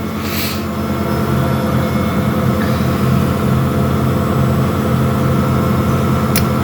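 Steady low drone and hum of a washing machine on its spin cycle with a load of towels, running continuously and fairly loud at close range with only faint vibration.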